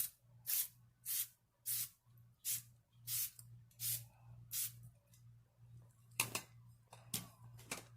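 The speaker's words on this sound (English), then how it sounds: "I'm gonna go ahead and spray my face" A handheld spray bottle mists a face before makeup: a steady series of about eight short, soft hissing bursts in even rhythm, then a few quicker sprays, over a faint steady hum with no talk.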